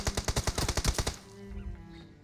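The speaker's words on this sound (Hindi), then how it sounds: "वो फायर करता है और फिर मैं फायर करता हूँ" Rapid gunfire in PUBG, a burst of about ten sharp, evenly spaced shots over one second, loud and close, then a lower rumbling tail as the firing stops.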